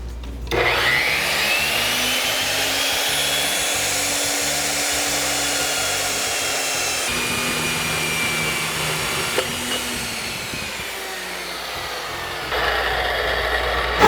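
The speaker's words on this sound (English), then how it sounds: "we're gonna go over to the bandsaw and get to work" A bandsaw cuts through 1.5-inch exhaust pipe tubing for a junkyard Honda CB750F motorcycle, a steady, close whirring grind that runs on continuously with slight shifts in pitch and no talking.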